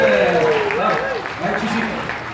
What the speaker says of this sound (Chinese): 掌声鼓励，谢谢。